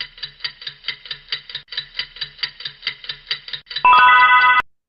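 Countdown timer sound effect ticking steadily and fast under a math assessment, the even ticks ending in a loud bright alarm ring for the last second.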